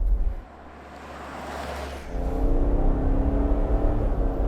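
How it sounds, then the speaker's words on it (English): Ineos Grenadier 4x4 with a BMW six-cylinder engine driving in the Highlands, a steady engine note that swells after two seconds over wind and road rumble, with no talk. "that lovely silky BMW 6-cylinder"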